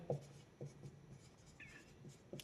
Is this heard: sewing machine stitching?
no